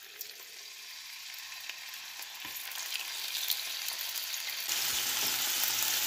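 Marinated eel fries in a hot pan, a steady hissing sizzle building gradually louder with faint scrapes of stirring, close by and without speech.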